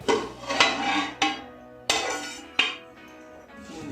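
Metal plate lid lifted off a pan of cooking rava kichadi: several sharp metallic clanks and clinks in an uneven sequence, each ringing briefly, close up with no speech.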